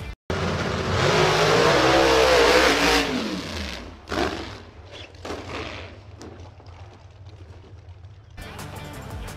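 A car engine in a drag-racing video game revs hard with a nitrous boost, a loud sustained roar that climbs and then drops away after about four seconds, followed by quieter engine bursts and mechanical clatter.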